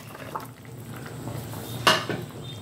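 Fish pieces go into a Bengali fish curry pot, giving soft clatter and stirring scrapes, with one sharp clink of utensil on metal, close and fairly quiet.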